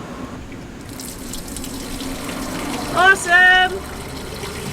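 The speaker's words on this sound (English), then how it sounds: "we're just going to run some water and just see that it flows out" Water runs through the newly modified plumbing of a Sprinter camper van, a steady tap-like flow with a brief splashing surge near the end, and a voice speaks briefly over it.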